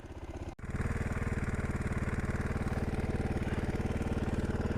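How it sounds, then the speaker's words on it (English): A Suzuki DR350 motorcycle engine idles at about 2000 rpm while warming up, a steady, close, rapid thumping beat that holds evenly throughout after a brief dip near the start. "Idling at 2030 RPMs. Let's sit here and let it warm up."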